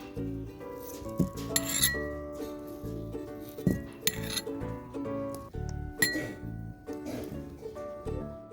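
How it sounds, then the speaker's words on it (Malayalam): Aloe vera gel scraped out with a spoon, repeated close metallic clinks and scrapes against a dish in an uneven rhythm, steady and fairly loud, with no talk. "ഈ ജെല്ല് നമ്മളൊരു സ്പൂൺ വെച്ച് ഇങ്ങനെ വടിച്ചങ്ങോട്ട് എടുക്കുവാണേ"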